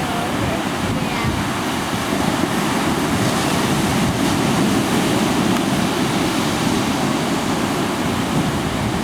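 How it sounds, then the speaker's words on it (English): Choppy ocean surf at a beach, a loud continuous wash of breaking waves mixed with heavy wind buffeting the microphone, no distinct voices. "It's hard to catch waves. They're choppy."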